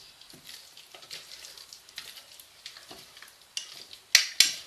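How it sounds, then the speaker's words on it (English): Red velvet cookie dough being mixed in a bowl, soft scraping and stirring strokes, quiet and close, ending with a couple of sharper clinks of the utensil against the bowl. "Let's mix that all up nicely."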